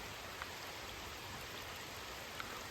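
Steady rain pattering on a small creek, a soft even hiss with occasional faint droplet ticks, continuous and fairly quiet throughout with no voices.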